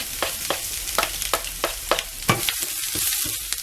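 Garlic fries in a small amount of oil in a pan while making Thai-style crab rice, giving a steady close sizzle punctuated by a regular series of scraping stirs, with no talking.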